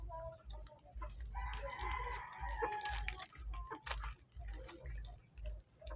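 A rooster crows once, faintly, partway through a steady low rumbling background during an afternoon snack, with a few scattered clicks and knocks around it.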